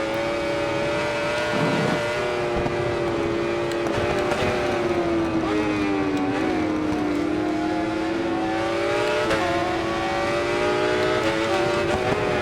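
Yamaha racing motorcycle engine in the video game RIDE 4, a steady loud high-pitched whine that rises and dips slightly as it holds revs, with no talk.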